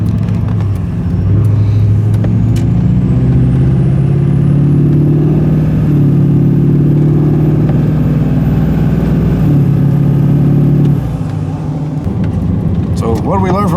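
A Chevy truck engine with a blown-up turbo runs loud and steady for about eleven seconds, holding a constant droning rumble with a high whine on top, then drops to a quieter idle near the end.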